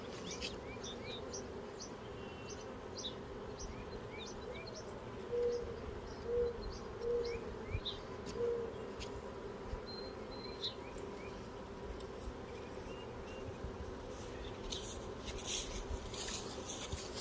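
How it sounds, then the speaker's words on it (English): Honeybees in a treatment-free bee yard make a constant low buzz, with a few soft bird chirps and coos scattered over it. "These bees got work to do, but I think they'll do just fine."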